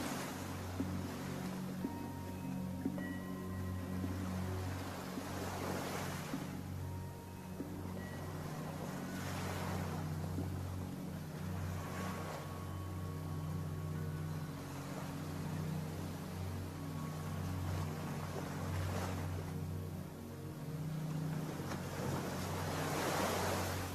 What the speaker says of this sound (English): concentrate on listening to the sounds of the waves